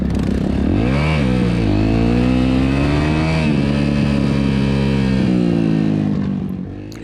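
A Kawasaki KX250 dirt bike engine revving loud and close as gears are shifted, pitch rising, dropping and climbing again across the run, then fading slightly at the end, with no talk.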